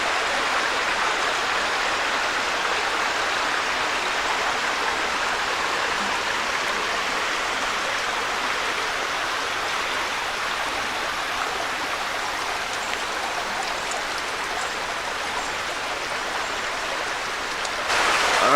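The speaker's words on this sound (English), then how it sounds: "Nice place to sit, hear the water and stuff like that." Water flows steadily along a stream at Shenk's Ferry, a continuous broadband rush that stays close and even throughout, with no voices over it.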